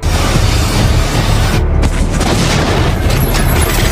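A car explodes after being shot at in the film Death Race (2008): a loud, sustained explosive roar with heavy rumbling, like a big blast going off nearby.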